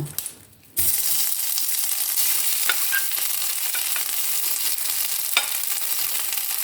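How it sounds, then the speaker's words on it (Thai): Curry paste hits hot oil and stir-fries in a wok, giving a loud, continuous sizzle after a brief quieter start, with occasional scrapes and clinks of the spatula stirring. "เอาเรามาผัดกันเลยเนาะ ใส่เครื่องแกงไปเลยนะใส่น้ำมันแล้วนะคะ"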